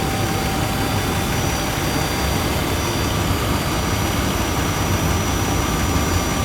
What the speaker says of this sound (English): So that is how a 3-year-old V6 engine on a Nissan sound like